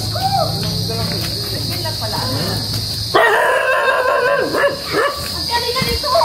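A dog barks and yips close by amid loud talk and a steady high cricket-like whine, a few sharp yelps rising over the voices.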